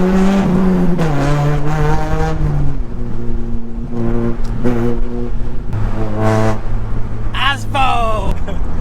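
Loud straight-piped Honda Civic EP3 Type R exhaust on the move, a steady harmonic drone that rises and falls with revs, joined by a brief high whine near the end.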